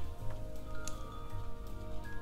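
A rain downpour in the video game Trails of Cold Steel gives a soft, continuous patter of drops at low level, with faint ticks and a steady tonal hum from the game underneath.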